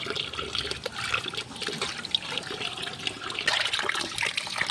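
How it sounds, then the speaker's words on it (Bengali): Steady splashing and running water while pabda fish are rinsed clean by hand, a continuous close wash of liquid with small irregular spurts and no talking. "এভাবেই মাছগুলিকে আমি ধুয়ে নেব।"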